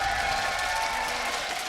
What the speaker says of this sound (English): We've got an energetic crowd today here live in Berlin.